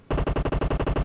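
Automatic gunfire from the PUBG Mobile video game during a tournament match, a rapid burst of about ten evenly spaced, loud shots fired in quick succession with no voices.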